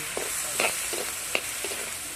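Prawns sautéing in a clay pan over a clay stove, a steady hiss of frying broken by a few sharp scraping stirs, close and moderately quiet.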